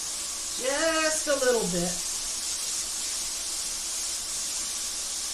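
Onions sautéing in a pan give a steady, broad sizzling hiss that runs throughout, with a voice talking briefly over it near the start.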